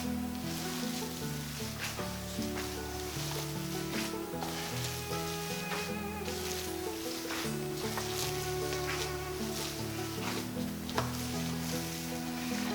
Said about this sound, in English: we're going to mix that fat up a little more evenly by doing this